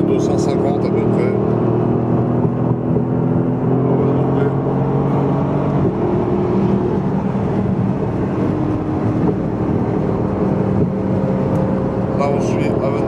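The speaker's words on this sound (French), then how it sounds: "On va trouver un petit bout de ligne droite, on roule tous en convoi, entre 150 et 250 à peu près." Several supercars, including a Lamborghini Aventador, a Porsche Turbo S and a Ferrari FF, run in convoy on a straight at 150–250 km/h, their engines giving a steady loud roar with wind and road noise while people talk throughout.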